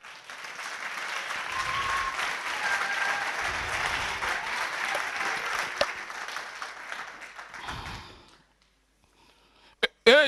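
A church congregation applauds and cheers the Lord in sustained, loud, dense clapping for about eight seconds before it fades out, followed by a near-silent pause and a couple of sharp knocks.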